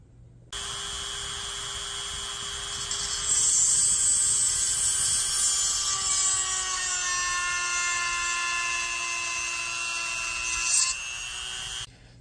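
A Dremel rotary tool drills into delft clay for casting a ring with prong settings, a steady high-pitched motor whine that climbs slightly in pitch midway and runs continuously for about eleven seconds before cutting off.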